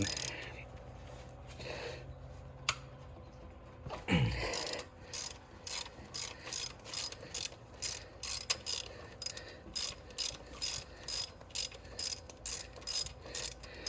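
Ratchet wrench removing the center pulley from an LQ1 DOHC V6 engine during a timing belt change, a loud thud followed by a steady run of rapid, evenly spaced clicking strokes, close up.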